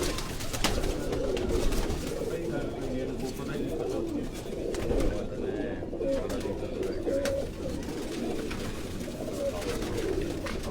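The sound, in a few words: pigeons cooing in a loft cage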